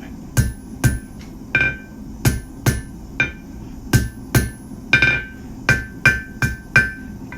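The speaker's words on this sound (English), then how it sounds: "Come to the anvil, hammer up at an angle, tongs up at an angle, like this, and just like that." Hot steel being forged into a J hook on an anvil, about sixteen sharp ringing hammer blows struck close and loud in uneven pairs and runs.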